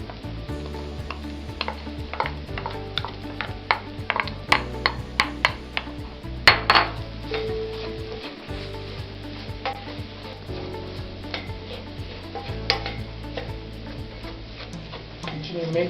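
Meat samosa filling and diced onions are stirred in a hot pan, with repeated spatula scrapes and taps over a steady sizzle and a constant tonal backing.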